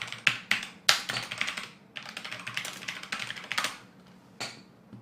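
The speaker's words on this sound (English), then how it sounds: "What keyboard am I rocking? It's a bloody keyboard." Someone types on a computer keyboard close by, fast irregular bursts of clacking keystrokes with short pauses, no talking.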